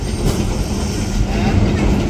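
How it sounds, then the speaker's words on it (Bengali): A crowded local train with people riding on the roof rolls slowly past on its way into a station in a Bangladeshi village, a steady close rumble of wheels and carriages holding throughout. "এটা লোকাল ট্রেন।"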